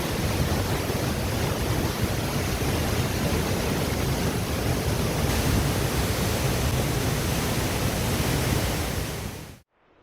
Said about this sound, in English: The noise of the river crashing through the rocks into this deep pool is almost deafening.